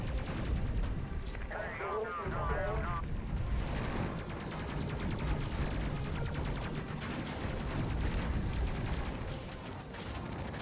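Rapid weapon fire against enemies in Space Crew, a steady stream of sharp repeated shots and rumbling impacts running through the whole stretch, moderately loud, with someone talking over part of it.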